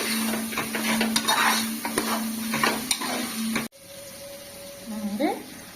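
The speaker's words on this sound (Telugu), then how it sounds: "టమాటీలు మగ్గాక ఇప్పుడు మనం మసాలా పేస్ట్ రెడీ చేసుకున్నాం కదా, అది వేసుకుందాం." Masala paste being stirred into cooked tomatoes in a pan gives a sizzle with spatula scrapes and clinks that cuts off abruptly partway through, and a quieter stretch follows with a faint tone.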